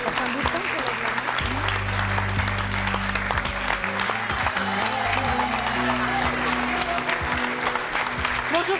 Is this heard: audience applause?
yes